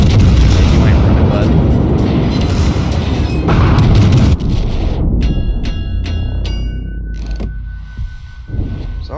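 Battleship 16-inch guns from a Nagato in World of Warships, heavy booming salvos and rumbling blasts, loud and sustained at first before easing, with a voice talking over it.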